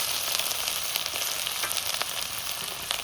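Chopped ginger and cumin seeds frying in oil in a pan over a village clay stove, a constant soft sizzle with faint crackles and no talk.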